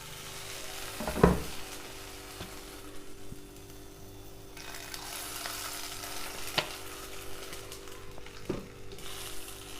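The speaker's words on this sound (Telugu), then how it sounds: "కళాయి వేడైంది. ఇప్పుడు పచ్చిమిర్చి వేసుకుందాం. ఇప్పుడు కొంచెం ఆయిల్ వేసుకోవాలి." Green chillies fry in oil in a hot kadai with a soft, steady sizzle, broken by a sharp clatter of stirring early on and a few lighter knocks later.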